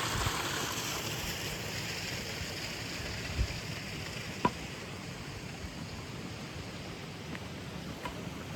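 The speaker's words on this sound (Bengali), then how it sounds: "এর ভেতরে পেয়ার হুইল ঘুরছে আর এখান দিয়ে জল বেরিয়ে আসছে" Water pouring out of the housing of a water-driven prayer wheel on the trail to Tiger's Nest Monastery in Paro, Bhutan, a steady broad rushing flow, close and continuous with no voices.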